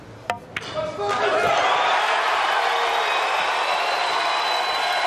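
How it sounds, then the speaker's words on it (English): After a few sharp knocks at the start, a crowd at a 2022 Mosconi Cup pool match erupts into sustained cheering and applause that holds steady and loud to the end. "The crowd lets them hear it, Allison."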